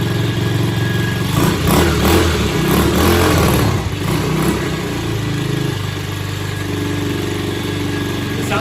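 A SYXMoto VK 58cc kids dirt bike with an exhaust pipe, started on a cold day, runs loud and close, with a few quick revs early on before it settles into a steady buzzing idle. No voices.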